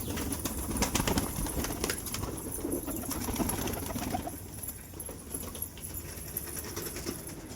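Pigeons jump about inside a cage before feeding, with fluttering wing flaps, scuffling and soft cooing mixed into a noisy, busy background.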